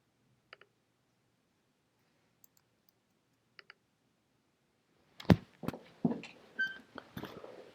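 Mouse clicks while using Photopea image-editing software: a few quiet, isolated clicks spaced far apart, then a busier burst of louder taps and handling noise toward the end.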